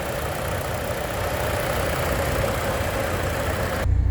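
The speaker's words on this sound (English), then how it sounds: "Okay, shot of the motor running" A 2014 Kia Forte engine idles in a steady, unbroken rumble recorded up close, with no talking.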